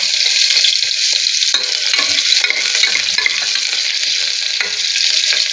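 Onions frying in oil for mutton sambar give a loud, steady, close sizzle with occasional stirring scrapes, with no talking.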